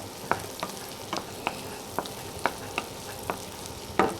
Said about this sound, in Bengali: গাজরটা দিয়ে আমি একটু নেড়ে ছেড়ে নেবো